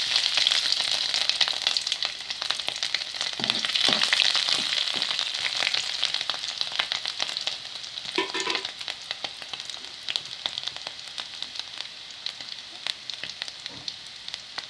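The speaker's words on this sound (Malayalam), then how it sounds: "എണ്ണ നല്ലോണം ചൂടായി വന്നിട്ടുണ്ട് ഇനി അതിലേക്ക് ഇഞ്ചി വെളുത്തുള്ളി പേസ്റ്റ് ചേർത്ത് കൊടുക്കാം" Ginger garlic paste sizzles and fries steadily in hot oil in a pan, a continuous close crackling hiss with occasional stirring scrapes, heard alone without talk.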